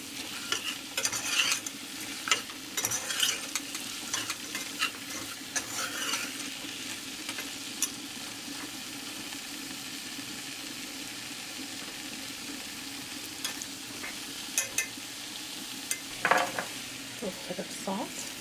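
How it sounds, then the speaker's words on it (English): Flour sizzles and cooks in a pan for scalloped Brussels sprouts, with steady frying crackle and repeated scraping stirs of a utensil against the pan throughout, close and moderately loud, with no talking. "And just let that cook, get that flour taste out of there."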